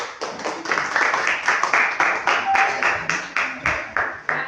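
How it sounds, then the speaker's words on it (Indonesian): A crowd claps steadily for several seconds, a dense run of hand claps with uneven bursts, fairly close and lively. "Tapi tepuk tangan dulu."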